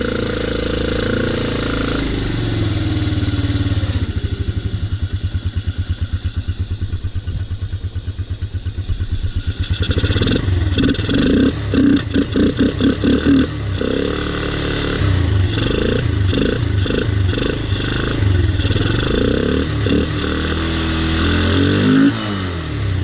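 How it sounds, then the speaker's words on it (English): A Honda TRX 125 ATV engine runs close by, sputtering and uneven at first, then settling into a steady, slightly low, rapid-pulsing idle that continues throughout. "The idle's probably just a little low, but it'll also idle up when it gets warmed"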